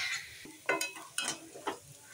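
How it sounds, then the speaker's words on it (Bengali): Potatoes frying in a pan are stirred, giving a few distinct scraping and clinking strokes over a faint, quiet sizzle. "আলুটা ভালো করে ভেজে নেওয়া হচ্ছে।"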